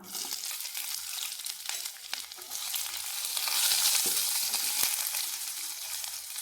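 Sliced onion goes into fennel seeds frying in hot oil for tomato rice, setting off a loud, continuous sizzle that swells midway, with occasional stirring scrapes and no talking.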